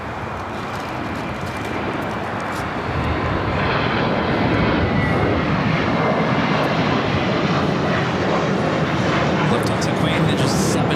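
An airliner takes off from runway 25 left at LAX, its broadband jet engine roar building steadily and holding loud and continuous throughout, with faint radio voices underneath.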